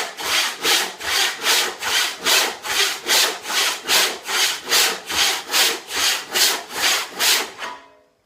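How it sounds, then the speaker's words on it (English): A 20-inch hand saw cuts through wood in long, steady strokes, about fourteen evenly spaced rasping pushes and pulls at close range, ending as the cut finishes. "And then use the entire saw blade. I've got a 20-inch saw blade here."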